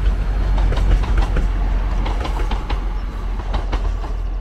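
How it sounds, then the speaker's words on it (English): A train passes on the coastal railway between Lelant and St Ives in Cornwall, steady rumble with repeated clickety-clack of wheels over rail joints, fairly close and continuous. "Oh, I can hear the sound of a train."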